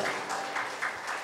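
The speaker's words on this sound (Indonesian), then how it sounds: "Kasih tepuk tangan boleh ya" Applause from a church congregation at an anniversary worship service, a dense steady clatter of many hands lasting the whole moment, moderately loud and fairly close.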